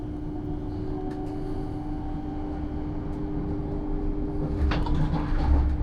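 A train rumbles along the rails of a Scottish route toward Glasgow Central, with a steady low drone and mechanical hum, growing slightly louder toward the end; no talking.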